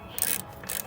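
A ratchet wrench bolting up the intake on a VQ35DE engine, two short bursts of quick mechanical clicking, close and fairly quiet.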